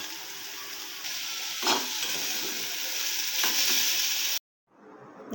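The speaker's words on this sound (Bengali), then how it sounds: "রসুন কুচি অ্যাড করলাম অ্যাড করে দিলাম এটা ভালো করে ভেজে নেব" Chopped garlic sizzles steadily in a pan alongside onion, with greens and prawns in the dish, a close, continuous frying hiss with a few stirring scrapes before it cuts off abruptly near the end.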